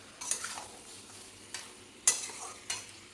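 Mutton curry is sautéed with spices in a pan while a spoon stirs it, giving a soft continuous sizzle broken by several sharp, close scrapes at irregular intervals.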